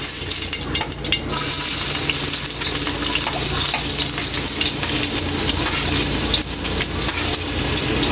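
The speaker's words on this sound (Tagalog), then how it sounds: "Igisa na natin yung bawang." Garlic sautéing in cooking oil, a loud, continuous crackling sizzle with dense spattering that holds steady from start to finish with no talking.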